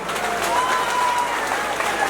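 Audience applause at a large Meghwal community gathering in Sirohi, a steady wash of clapping from a big crowd lasting a couple of seconds, fairly loud and even throughout.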